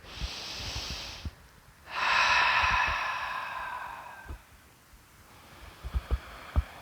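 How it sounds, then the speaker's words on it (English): Deep belly breathing in the seated yoga pose Sukhasana: two long, close, airy breaths, each a slow inhale or exhale lasting a couple of seconds, followed by quieter soft breaths and light body sounds. "Breathing deep down into the belly, allowing the diaphragm to do its job of dropping and opening up the lungs."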